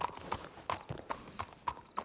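Horse hooves clip-clop in a steady walking rhythm in a video game, about six evenly spaced sharp clops over two seconds, fairly close, with faint background ambience.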